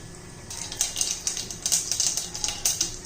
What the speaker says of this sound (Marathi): जिरं मोहरी चांगली तडतडून द्यायची आहे